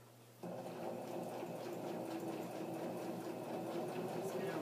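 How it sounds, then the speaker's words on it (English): A sewing machine stitches a tuck into a gray diamond-pattern sweater, running steadily after a quiet start with a continuous low mechanical hum and faint rapid clatter. "I'm sewing in that tuck"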